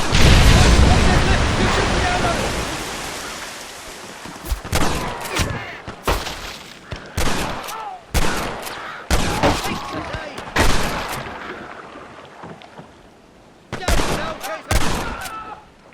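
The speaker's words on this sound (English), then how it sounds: "Stop shooting at me!" Gunfire in the video game Red Dead Redemption: a loud opening blast that rolls off, then a rapid, irregular volley of sharp close gunshots in bursts over a windy background, with occasional voices.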